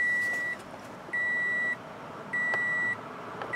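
Dashboard chime in a Toyota Sienna minivan after the ignition is switched on: three sustained electronic tones, each about half a second long with short gaps, clear and steady against a faint background hiss.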